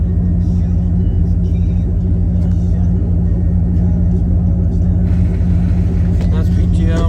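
Dump truck bought at auction, running with PTO engaged: a heavy diesel rumble, steady and loud throughout, with someone talking over it.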